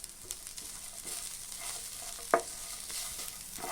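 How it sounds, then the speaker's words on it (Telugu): Drumstick leaves stir-frying in a pan for fried rice, giving a soft, low crackle with faint scraping and one sharp clink of a spatula against the pan. "చూడండి, మునగాకు దోరగా వేగింది."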